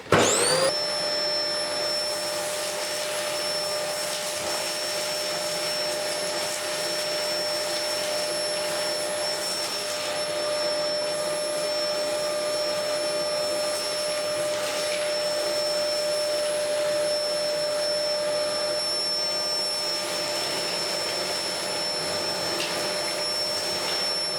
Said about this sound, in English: So I'm now just going to vacuum up what I can out of the cavity.